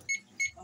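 A small kitchen timer gives short electronic beeps in a home kitchen during cassava cake baking, two or three quick faint pips spaced evenly apart.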